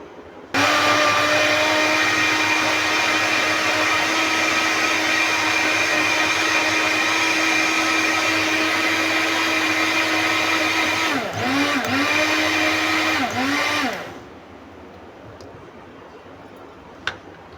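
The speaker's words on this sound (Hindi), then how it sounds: "तो चटनी मैं पहले बना लूँ, इसको मैं पीस लूँ, शोर होगा" A mixer grinder grinds green chutney in a loud, steady motor whine lasting about thirteen seconds, dipping briefly a few times near the end before cutting off to quiet.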